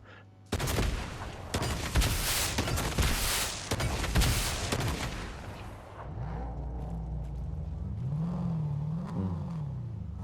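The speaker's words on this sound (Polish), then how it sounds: "No Jezu, z autem wjeżdżają." A loud burst of rapid gunfire and explosions gives way to a car engine revving and changing pitch as it drives, in the video game Fortnite.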